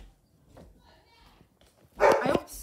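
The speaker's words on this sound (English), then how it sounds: "my dog is barking" A pet dog barks indoors in a short, loud burst near the end, after a stretch of quiet room tone with faint background sounds.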